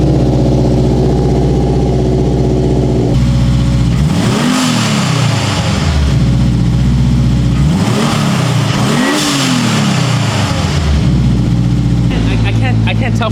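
A car engine fitted with a newly installed intake idles, then is revved twice in quick swells that rise and fall back to idle, loud and close, with voices talking over it.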